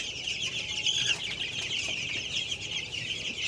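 Desi chicken chicks clucking and peeping in a small flock, a continuous high chatter of overlapping calls at moderate level, no talk.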